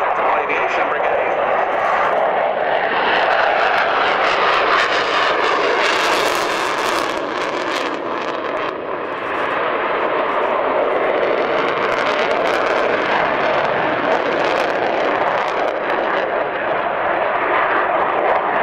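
A Sukhoi Su-27 Flanker jet flies a display at RIAT 2018, giving a loud, continuous, rushing engine roar that swells and wavers throughout.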